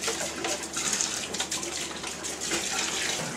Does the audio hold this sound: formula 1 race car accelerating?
no